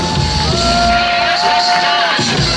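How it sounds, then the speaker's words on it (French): An audience at a Royal Rumble final cheers loudly, with whoops and shouts over a dense crowd roar and a few sustained whistle-like tones. "On peut les applaudir quand même."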